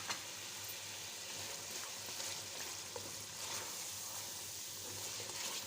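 Chicken karahi sizzling in the pan as a green paste of coriander, mint and green chili goes in, a steady close hiss of frying with faint stirring ticks and no talk.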